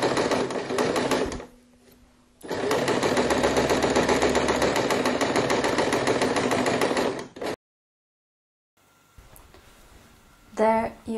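A sewing machine stitches denim jeans next to a canvas panel for a handbag, a loud, rapid, steady run that pauses briefly, resumes for several seconds, then stops.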